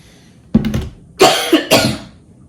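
Three or four harsh, close coughs in quick bursts, loud and raspy, with brief pauses between them and no speech.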